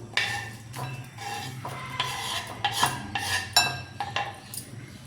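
A metal spoon scrapes and clinks against a bowl as chopped onion is moved into it, giving a run of close, uneven scraping strokes with brief pauses between them.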